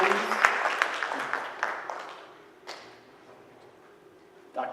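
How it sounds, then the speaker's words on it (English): Brief applause from attendees at a school board meeting honoring school nurses, a scattered round of clapping that fades quickly, with a couple of later thumps and a voice speaking over it. "Can we give these ladies a big round of applause?"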